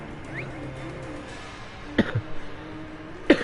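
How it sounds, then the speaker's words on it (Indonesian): Two short coughs, one near the middle and one at the end, in the Assassin's Creed Origins video game, heard over a low steady ambient background. "Batuk-batuk."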